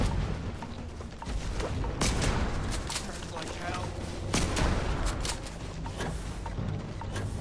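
Gunfire and a grenade blast from combat in the video game Starfield, dense rapid shots and sharp bursts crackling throughout at steady loudness, with sudden heavier impacts breaking in along the way.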